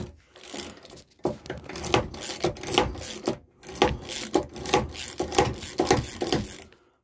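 A Yankee push screwdriver fitted with a modern bit drives a screw into wood, giving bursts of ratcheting, rasping clicks in quick repeated strokes with brief pauses between them, close and fairly loud, with no talking.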